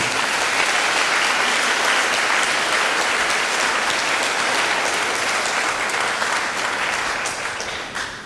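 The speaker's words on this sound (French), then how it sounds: "S'il vous plaît, un applaudissement pour le Père Sergo." A church congregation at a Sunday Mass applauds for their priest, a thick, continuous wash of clapping that fills the space at a steady loudness for several seconds before gradually thinning toward the end.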